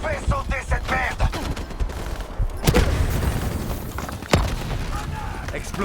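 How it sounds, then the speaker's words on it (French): Explosions and gunfire in the video game Call of Duty Black Ops 3 during a co-op commando mission, with sharp loud booms rising over continuous rattling combat noise while voices talk. "Explosion confirmée."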